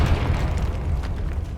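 A Confringo blasting spell explodes in Hogwarts Legacy, a deep, rumbling boom with a heavy low-end roar that sustains for nearly two seconds at steady, loud level.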